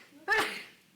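A single abrupt sneeze bursts out in a school district board meeting room, sharp at onset and fading over about half a second, fairly close and alone.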